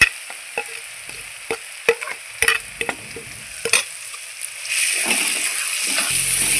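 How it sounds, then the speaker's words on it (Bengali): Spices for a fish curry fry in a pan, with sharp scraping clicks of a spoon stirring at irregular intervals, then a louder continuous sizzle that swells toward the end. "আমার মশলাটা কত সুন্দর ভাজা হয়ে গেছে"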